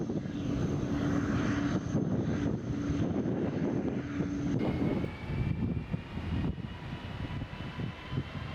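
A Czech Airlines Airbus A330 airliner roars steadily as it takes off, a broad, constant engine and rushing-air noise heard from inside the cabin, with no one talking.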